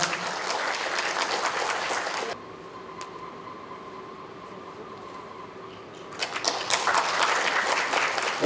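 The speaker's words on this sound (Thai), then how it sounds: "ขอเสียงปรบมือด้วยครับ" An audience claps at a Red Cross training event for blood donor coordinators in Songkhla: a burst of applause, a quiet stretch with a low steady hum, then clapping that swells again.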